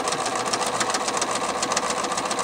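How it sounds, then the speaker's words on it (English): A sewing machine stitching a quarter-inch seam in fabric for continuous bias binding, a fast, even mechanical chatter running steadily and close throughout. "I'm going to go to the machine. We're going to sew a 1/4 inch seam allowance."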